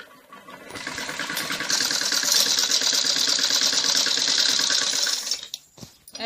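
Sewing machine stitching the hem edge of a salwar leg, running in a steady fast whir for about four seconds before stopping, close and fairly loud.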